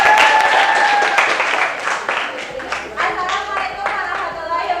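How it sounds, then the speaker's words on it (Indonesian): A classroom of students breaks into applause before a group presentation, loud close clapping that starts strong and gradually thins into scattered, uneven claps toward the end. "Ayo, ya, beri tepuk tangan terlebih dahulu biar semangat."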